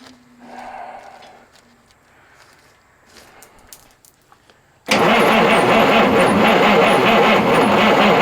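A 1989 Marmon truck engine cranks on its starter after a stretch of quiet, faint background sounds, then a loud, steady, rhythmic churning that continues to the end without catching.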